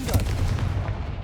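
A blasting spell explosion in the Hogwarts Legacy video game lands as a short, muffled, booming burst with a low rumble that fades quickly.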